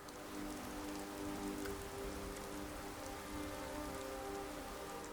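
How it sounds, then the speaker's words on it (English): Light rain falls steadily in the Skyrim Dragonborn game, a constant close hiss of drops on surfaces with no breaks and no voices. "really enjoying this light rain we've got here."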